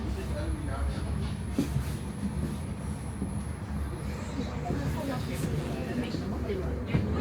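A Helsinki suburban P commuter train runs steadily, a continuous low rumble with occasional rail clicks heard from on board, with a voice speaking over it.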